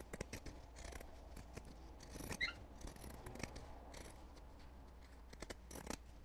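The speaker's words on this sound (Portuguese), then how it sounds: "Eu vou agora refilar aqui com a tesoura de picotar esse corpinho." Pinking shears trimming the edges of a sewn fabric doll body, heard as a series of close, crisp snipping cuts with soft rustling of cloth in between.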